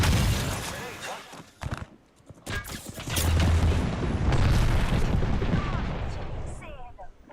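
Grenade blasts in a video game, a series of booming explosions with gunfire rattling around them, loud and dense and overlapping, with a voice talking through the middle.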